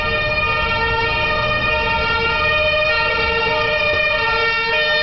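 A loud fire brigade command vehicle siren in Amsterdam wails steadily throughout, its tones layered over rumbling traffic noise.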